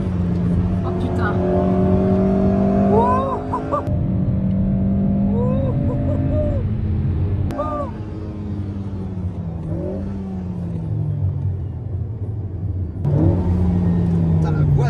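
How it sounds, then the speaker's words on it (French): A loud, close Alpine A110 R race car engine revs up and down on a circuit in repeated rising and falling sweeps, with people talking over it. "Putain, la voiture de course."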